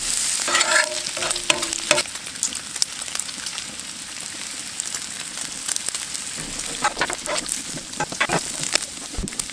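Pancakes sizzle in a pan over an outdoor fire in the woods, a soft continuous frying hiss broken by scattered clicks and scraping sounds.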